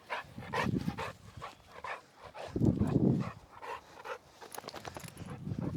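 A dog pants and huffs in quick, uneven bursts at close range, with occasional whimpery yips mixed in.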